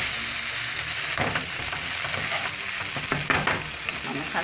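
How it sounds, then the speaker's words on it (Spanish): Chili peppers frying in hot oil in a skillet, a steady crackling sizzle that runs close and constant throughout, with scattered louder pops and no talk over it. "sabemos que estos ajíes ya están bien fritos cuando se separa del aceite"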